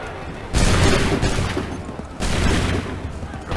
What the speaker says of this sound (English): Wait for the signal. Shoot!